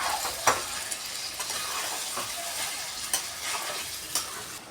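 Chicken masala sautéing with chilli and turmeric powder sizzles steadily in a pan, broken by several sharp scrapes and clicks of a spoon stirring through it.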